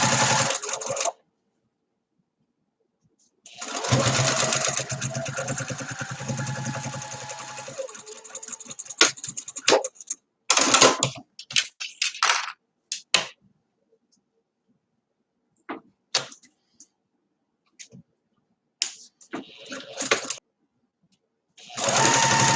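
A sewing machine stitching the side seams of a top, a steady whirring run of about five seconds followed by shorter stop-start bursts of stitching with quiet pauses between, close and fairly loud.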